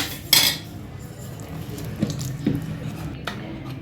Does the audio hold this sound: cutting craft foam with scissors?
no